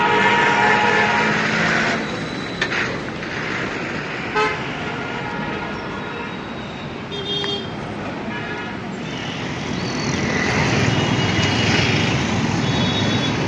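City road traffic in Pune passes close by, a continuous rumbling wash of engines with scattered horn toots and clanks, and people talk intermittently over it.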